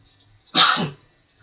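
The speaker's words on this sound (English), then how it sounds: "let me sneeze again" A single sharp sneeze bursts out of near silence, loud and close, lasting under half a second.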